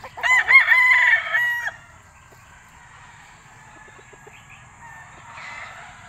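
A White Kelso bull stag gamefowl at a game farm crows once, loud and close, before fading into quiet background rustle with a faint distant crow near the end.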